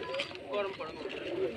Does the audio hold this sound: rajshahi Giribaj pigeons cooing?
yes